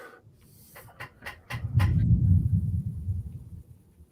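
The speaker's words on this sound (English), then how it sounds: "Oh, that was just that train." A passing train rumbles as a deep, sustained low roar that swells in after a few faint thuds and holds steady before easing slightly, heard alone without talk.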